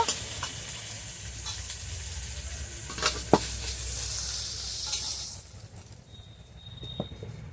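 Prawns frying in oil in a pan, a steady close sizzle with occasional stirring scrapes and knocks, easing slightly near the end.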